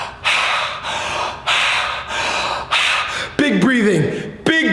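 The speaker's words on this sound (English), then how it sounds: "Big breathing." Deep, forceful breathing in repeated rhythmic bursts, roughly five loud exhalations about a second apart, close to the listener, ending with a couple of sharper voiced breaths.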